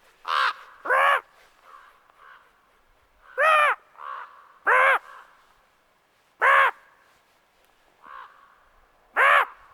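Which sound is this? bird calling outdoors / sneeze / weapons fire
bird calling outdoors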